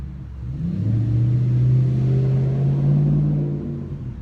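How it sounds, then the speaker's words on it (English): A truck passes close by outdoors, its engine rumble swelling, holding steady for a few seconds and then easing off as it moves away. No one speaks. "I'm gonna let this truck pass by"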